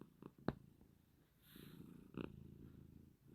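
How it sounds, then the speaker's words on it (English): A soft, low rumbling purr from a cat close by, fairly quiet, with a couple of brief clicks and rustles. "can you hear my cat purring?"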